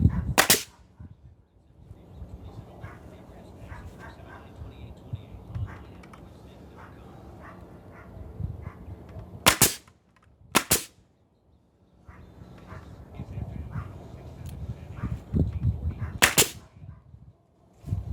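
A nail gun drives nails into shed framing boards, with a few sharp, loud single shots spaced seconds apart over low background shuffling and faint handling noise.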